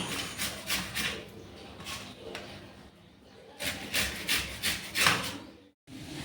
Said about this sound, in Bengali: আমি দেখো আমটা ঘষে নিচ্ছি